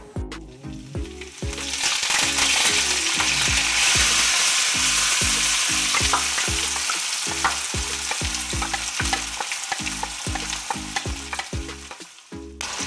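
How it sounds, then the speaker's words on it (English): Seasonings frying in hot oil while cooking ackee and saltfish, a loud, continuous sizzle over a fast, even series of low clanking beats from stirring against the pan. "I'm going to go ahead and start frying up all my seasonings"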